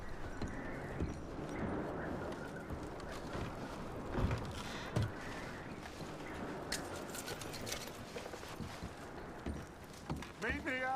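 Horse hooves clip-clop at a steady walking pace in the video game Red Dead Redemption 2, set within a dense outdoor game ambience with a voice occasionally present.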